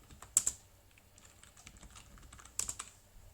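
Terminal commands typed on a computer keyboard, quiet and close, with a couple of louder key clacks at the start and end and light scattered tapping between them.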